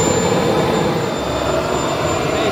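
A homemade jet engine grill used to cook burgers runs at full power, a loud, steady roaring whoosh with a faint high whine, close and unbroken for the whole stretch.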